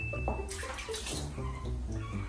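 Water splashes and pours steadily onto a shih tzu puppy's feet during its first bath in a tub, with a continuous close rushing wash and no talk.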